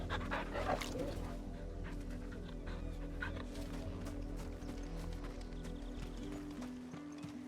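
Torgal, a hound in the video game Final Fantasy 16, pants softly and rhythmically, faint and steady beneath busy game ambience and light footfalls.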